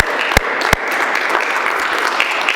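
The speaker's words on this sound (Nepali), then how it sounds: "आउनुहोस् हामी वचनको लागि ठुलो ताली बजाएर धन्यवाद दिनुहोस्" A church congregation applauding after a sermon, a full room of steady clapping with two sharp thumps near the start, sustained and fairly loud throughout.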